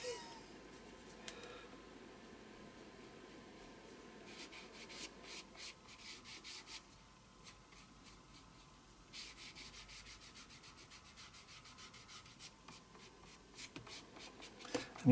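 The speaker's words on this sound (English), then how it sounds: "just go back and very, very gently. You don't want to be rubbing too hard because you'll end up taking the top surface of the paper off" A brush works paint and water very gently across the surface of art-journal paper, giving a steady, soft, close scratchy rubbing with small bursts and pauses throughout.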